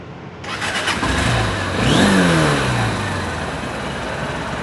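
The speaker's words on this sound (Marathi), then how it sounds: "आता मी तुम्हाला या बाईकचा साऊंड ऐकवतो बाईकचा कसा आहे तो" Honda SP160 motorcycle parked outdoors, its engine cranking and catching with a rising rev, then settling into a steady, close idle.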